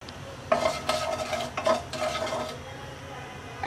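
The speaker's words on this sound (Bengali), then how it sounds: "তেলটা গরম হয়ে গেছে, দিয়ে দিচ্ছি 1 চা চামচ আস্ত জিরা, 1/2 চা চামচ দিয়ে দিচ্ছি কালো সরিষা" Whole cumin and black mustard seeds dropped into hot oil for a mixed cabbage bhaji, a sudden loud crackle and sizzle with spoon clinks against the pan, bursting in short surges before fading to a soft hiss.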